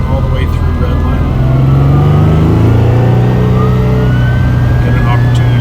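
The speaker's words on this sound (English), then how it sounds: "The exhaust system sounds incredible." A 1971 Ferrari Dino 246GT accelerates with its exhaust rising in pitch through the gears, loud and close, with a continuous engine drone and rushing road and wind noise.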